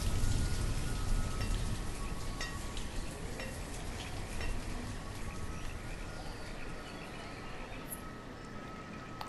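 Steady rain pours in the medieval town-building game Banished, a dense, even hiss of falling drops that holds at a constant level throughout, with no voices.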